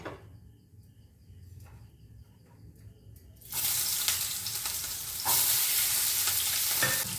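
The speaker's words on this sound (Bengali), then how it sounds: "এগুলো একটুখানি আমি একটুখানি হালকা করে ভেজে তুলে রাখবো।" Eggplant, flat beans and green chillies lightly frying in a pan, quiet at first with faint clatter, then a sudden loud, steady sizzle that swells again and continues to the end.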